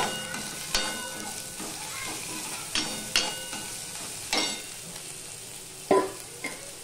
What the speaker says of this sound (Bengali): আদা নিয়ে আমি কিছুক্ষণ একটুখানি সময় নেড়ে নেব।